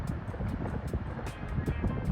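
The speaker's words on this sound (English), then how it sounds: "It's windy out" Steady wind blowing at Huntington Lake during an outdoor hike, a continuous broad rushing buffet against the microphone, loud and close, with no voices.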